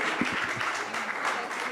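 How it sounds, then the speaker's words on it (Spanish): A conference audience at a 2017 telecommunications event in Mexico applauds, a brief burst of dense, even clapping heard from within the room. "Me aplauden antes de…"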